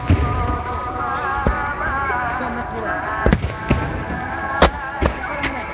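Fireworks at the Shinmei fireworks festival semi-finale go off as sharp, scattered bangs at irregular intervals, timed with a constant wash of music over crowd noise.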